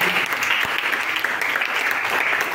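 A church congregation applauds a wedding during a service, with sustained, loud, dense clapping from many hands that fills the whole moment without a break.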